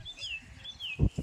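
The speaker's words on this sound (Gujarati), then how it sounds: "અને અત્યારમાં એટલા મસ્ત ચકલા અને બધા પક્ષીઓ બોલે છે સરસ મજાના." Two short, clear sparrow chirps sliding downward, followed by a couple of low thumps; quiet outdoor setting near a river.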